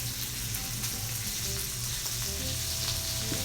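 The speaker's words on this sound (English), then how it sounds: "In this same pan, I'm going to add our sausage." Sausage sizzles and fries in a hot pan already used for cooking shrimp for shrimp and grits, a close, constant crackling hiss with faint stirring scrapes and no talk.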